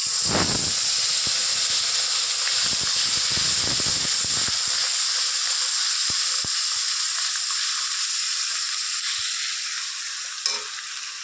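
Onion paste sizzling loudly in hot oil in a pan, being fried for a prawn malai curry, with a steady close hiss and a few stirring scrapes that quiet down toward the end.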